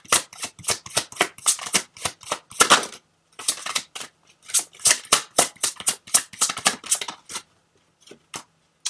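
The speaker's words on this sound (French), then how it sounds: "On va sortir une dernière carte." Tarot cards being shuffled and drawn, a close run of quick crisp riffling flicks and slaps in irregular bursts with brief pauses, ending in a few sparse taps, no voices.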